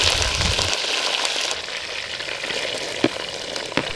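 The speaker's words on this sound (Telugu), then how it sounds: "వెంటనే కరివేపాకు, ఉల్లిపాయలు వేసి బాగా వేయించుకుందాం." Curry leaves and onions with garlic frying in hot oil after mustard seeds, for a Telugu egg and drumstick curry: a steady, fairly loud sizzle that stays even throughout, with a couple of sharp spatters near the end.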